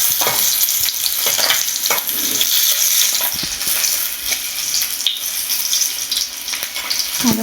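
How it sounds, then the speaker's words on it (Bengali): Pieces of bhetki fish fry in hot oil, giving a steady, dense sizzle and crackle throughout with occasional scraping and stirring clicks. "মাছটা ভালো করে লাল করে ভেজে নেবো।"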